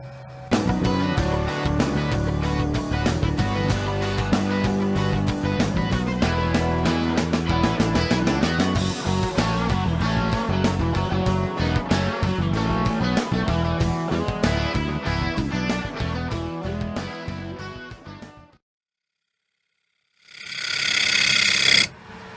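Bowl gouge turning oak end grain on a lathe, a loud continuous scraping and rumbling with rapid rhythmic ticks from the spinning square blank, lasting over fifteen seconds, then a stop, silence and a brief burst of noise.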